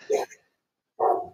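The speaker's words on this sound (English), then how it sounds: "I don't know if you can hear my dog. Yeah, barking." Dog barking, two short barks with a pause between them, close and fairly loud with nothing else heard.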